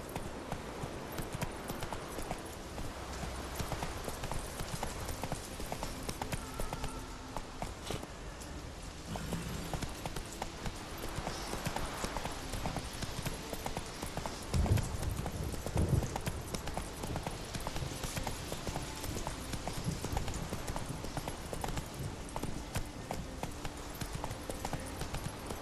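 Horse hoofbeats clip-clop steadily at a gallop for Roach in The Witcher 3 video game, a continuous close rhythm running the whole length under game ambience.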